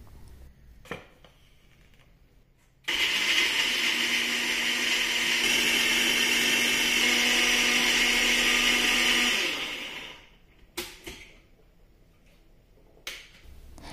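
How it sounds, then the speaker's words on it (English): A mixie blender grinds cashew nuts with milk, a loud close whirring drone that starts abruptly, holds steady for about seven seconds, then winds down, with a few clicks and knocks before and after. "I have handful of cashew nuts, and it goes into the mixie jar with milk to blend in"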